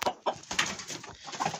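Several short clucking calls from chickens, close by, in a quick irregular series with a slight background hiss.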